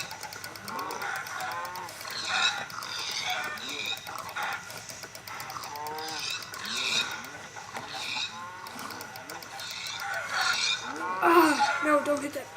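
Cows in Minecraft during a Hypixel party game give repeated short, bleating moos in close succession over a busy background of game sounds.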